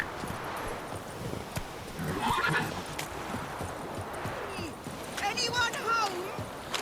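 In The Witcher video game, a horse whinnies and clip-clops along at a steady gait, with a second shrill neigh near the end, over soft ambient rustling and a voice speaking.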